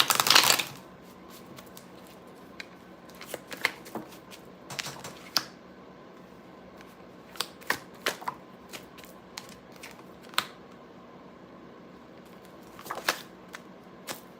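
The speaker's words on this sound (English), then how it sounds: "Let me shuffle one more time." Tarot cards shuffled by hand, a sharp riffle at the start followed by scattered soft clicks and taps of cards being handled, close and fairly quiet.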